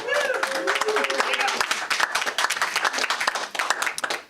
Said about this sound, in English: big round of applause for Darcy